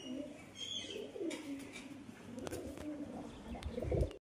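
A pair of pigeons, including a young bird, coos in low soft phrases with a few faint chirps, moderately close amid light background noise and no talking.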